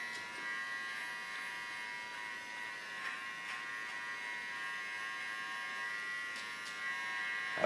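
Electric hair clippers buzz steadily through a haircut in a salon, a close, continuous hum holding at an even level with faint handling noises and no talking.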